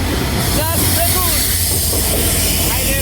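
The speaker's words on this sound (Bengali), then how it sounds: "ট্রেন আসতেছে, ট্রেনে উঠে যাবো ঢাকা পর্যন্ত" A Chitra Express train hauled by an American 66-series locomotive arrives, a loud continuous rumbling hiss with a few high squeals, and a person talking under the noise.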